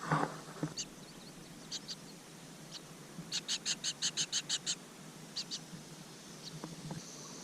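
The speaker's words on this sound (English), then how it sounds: "When I put the camera up, the bird's gonna get mad and start chirping" A bird hidden in a tree hole gives a rapid run of sharp repeated chirps, about a dozen in a burst, with scattered single calls before and after, faint over a steady outdoor hiss near water.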